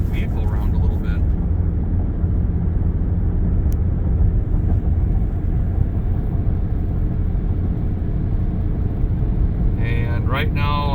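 A Chevrolet Silverado with a 2.7 turbo engine accelerates while towing a 5.3 Sierra, giving a steady, heavy low rumble of engine and road noise from inside the cab, with a voice briefly near the end.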